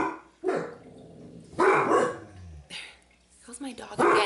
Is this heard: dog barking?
yes